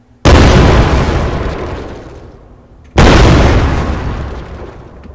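Two loud explosive booms from a tank firing shells in a video game, each a sharp blast followed by a long rumbling decay, spaced about three seconds apart.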